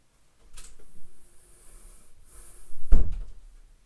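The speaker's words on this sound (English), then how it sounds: "my cat's trying to get out by the door over here, so I'm going to let him out" A door is opened to let a cat out, giving a soft creak and rustle followed by a louder thudding knock near the end, close and brief in a quiet room.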